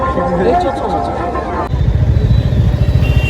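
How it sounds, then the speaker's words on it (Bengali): Pillion ride on a motorbike through a market lane in Barasat: crowd chatter and street noise at first, then a steady low engine rumble takes over midway, with voices continuing over it. "এই যে ভাইয়ের বাইকের পিছনে করে আমি যাচ্ছি"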